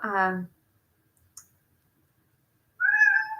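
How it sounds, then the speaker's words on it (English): A cat meows twice, close by, with a quiet pause and a faint click between the two calls. "that's my cat."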